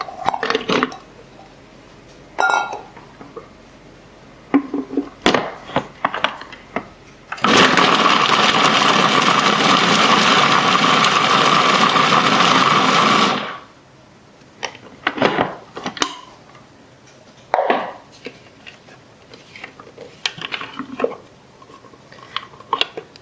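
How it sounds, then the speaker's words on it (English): A kitchen blender chops dates in one loud, steady whirring burst of about six seconds, framed by quieter clatter and handling noises before and after. "This blender is kind of new to me."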